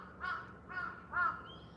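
Crows in a Tokyo cemetery park give three harsh caws in quick succession, fairly close and clear over quiet outdoor background, with no talk.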